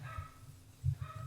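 Several dogs bark in short bursts, a louder cluster near the end, slightly distant and indoors.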